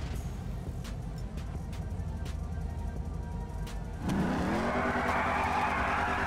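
Rat trucks race in GTA 5, a steady engine drone that swells into a loud revving roar with tire noise as they pull away.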